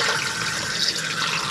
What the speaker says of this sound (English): to operate your toilet, press the blue button for your flush.